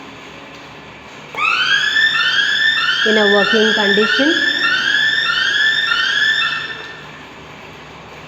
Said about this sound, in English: Here also there is emergency panic alarm